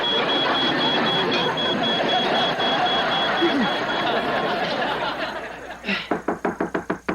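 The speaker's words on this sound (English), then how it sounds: "That sounds like the smoke alarm." A smoke alarm in a home kitchen chirps in a rapid series of sharp, evenly spaced beeps near the end, rising out of a steady background hum.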